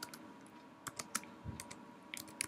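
Typing on a computer keyboard, heard as scattered clusters of sharp key clicks with short pauses between bursts, fairly close and quiet, with no talking.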